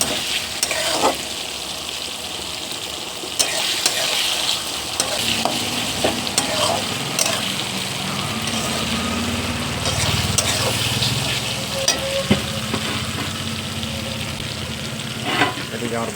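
Ginger-garlic paste sizzles and fries in a pan for a chicken curry, a steady loud crackling hiss close up with repeated scraping stirs of a spoon against the pan throughout.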